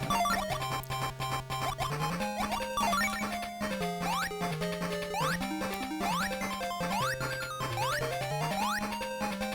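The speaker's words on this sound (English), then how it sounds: "So it's almost like that sound is like my charge." Rising chiptune charge tones from the Tails Adventure video game repeat in quick sweeping chirps over a busy, bouncing bassline and melody, loud and continuous with no talk.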